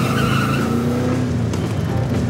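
A car burning rubber, tires squealing loudly and continuously for a couple of seconds over a roaring engine, recorded close and intense.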